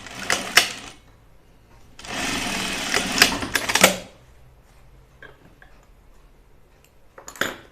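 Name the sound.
sewing machine stitching a 5/8 inch seam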